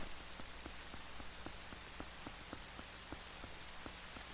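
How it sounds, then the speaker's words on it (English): Steady rain pattering across surfaces in The Legend of Zelda: Twilight Princess, a continuous broadband hiss with faint regular ticks of drops, even and unbroken throughout with no voices. "Rain goes on, rain goes off."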